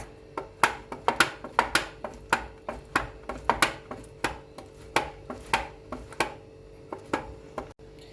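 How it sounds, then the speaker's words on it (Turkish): A knife chops tomatoes into small cubes on a board for a bakery-style pizza, a steady run of close, crisp cuts repeating about twice a second with no talking. "domateslerde de şöyle küp küp doğruyoruz yine"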